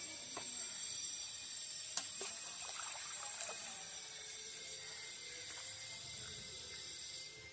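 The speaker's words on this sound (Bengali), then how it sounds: "এবার আমি পরিষ্কার করে ধুয়ে নেব" Small cut fish, earlier rubbed with ash, are rinsed with a little water, making a faint trickling and splashing with light scattered clicks of handling.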